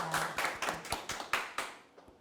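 Sparse, fairly quiet clapping at a forum on support for North Korean defectors, about seven distinct hand claps in a loose rhythm before fading out.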